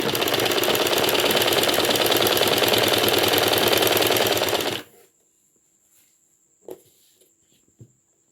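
A sewing machine stitches saree falls in a loud, rapid, steady mechanical chatter for several seconds, then stops abruptly, leaving near silence with a couple of faint clicks and handling sounds.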